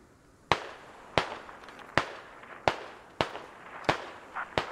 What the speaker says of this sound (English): We're taking shots from Hotel 873.